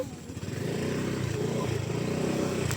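A motorcycle engine runs at a steady, rumbling idle-to-mid rev close by at Taban Riverside, holding continuously with a slight rise after the first half second.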